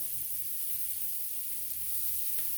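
Butter sizzling in a pan beside French toast, a steady close hiss and crackle that holds evenly throughout without talk.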